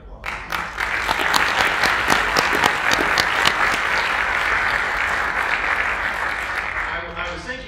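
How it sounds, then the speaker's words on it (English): At a music hall dedication ceremony, the audience breaks into applause that builds quickly and carries on steadily, fading near the end, with speech overlapping. "And I think that deserves a round of applause."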